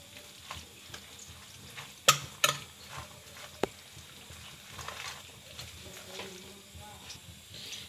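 A fork stirs yogurt with chopped green onion and chillies for baingan bharta, giving soft, steady wet scraping with a few sharp clinks against the bowl near the middle, all over a constant low background hiss.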